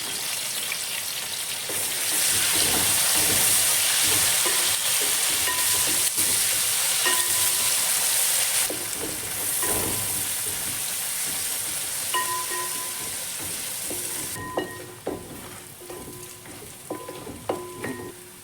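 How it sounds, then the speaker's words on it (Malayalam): Sliced onions fry in a pan with a steady, loud sizzle and crackle, along with occasional stirring clinks and scrapes toward the end; nobody speaks. "നമ്മുടെ സവാളയും ഒരുവിധം മുരിഞ്ഞു വരുന്നുണ്ട്"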